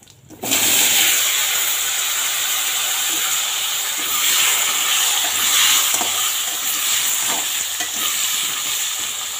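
Cut potatoes dropped into hot oil already seasoned with bay leaf and cumin, bursting into a loud, continuous sizzle and hiss that holds steady close to the pan.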